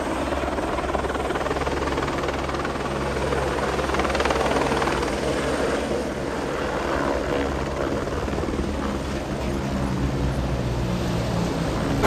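A helicopter comes in to land at Kedarnath in the Himalayan mountains, its rotor and engine roaring loud and steady throughout with constant thudding blade chop.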